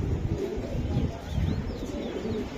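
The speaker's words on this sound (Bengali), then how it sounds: "এই যে কবুতর।" Racing pigeons of the Budapest breed coo softly and continuously nearby, a low, rolling murmur that holds steady throughout, with a few faint higher chirps over it.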